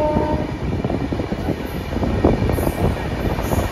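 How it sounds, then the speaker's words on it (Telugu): A double-decker express train pulls into Arakkonam Junction: a dense, loud rumble of wheels and rolling stock rattling steadily and close, with a faint high whine above. "అండ్ మన ట్రైన్ అయితే జస్ట్ ఇప్పుడు అరక్కోణం జంక్షన్కి అయితే వచ్చింది."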